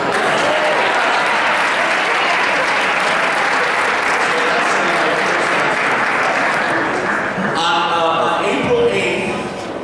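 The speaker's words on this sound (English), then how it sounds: "let's clap again" A school board meeting audience claps steadily and loudly for nearly ten seconds, the dense applause thinning near the end as a voice begins speaking over it.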